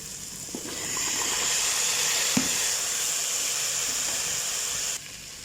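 Vegetables hit masala frying in a pan for masala khichdi, raising a steady, fairly loud hiss that holds for several seconds before easing slightly.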